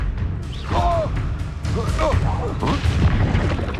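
A fire spell cast in the Hogwarts Legacy video game erupts in loud booming, crackling blasts mixed with swooshing magical effects and battle noise, sustained across the moment with a voice cutting in.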